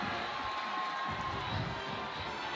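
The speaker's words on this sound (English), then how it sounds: "Tennessee High crowd's getting a little pumped up down here now too" A home crowd at a Tennessee High Vikings football game against Knox Karns cheers and shouts in a steady, dense roar. It swells slightly partway through and stays continuous and fairly distant, with no clear talk standing out.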